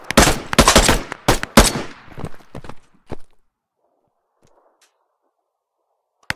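Bursts of automatic gunfire from a PMC-style video game rattle loudly in rapid, close volleys with single shots between them, then cut to near silence before one last sharp crack.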